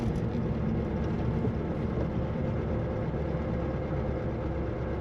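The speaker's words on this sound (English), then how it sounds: "Nice smooth running Volkswagen." A 1969 Volkswagen Karmann Ghia with a four-speed manual runs smoothly, its low engine drone steady and continuous from start to end at a moderate level, with no talk over it.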